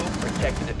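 Rapid gunfire crackles steadily through a short burst in a Rainbow Six Siege match, fairly loud, with faint game noise beneath.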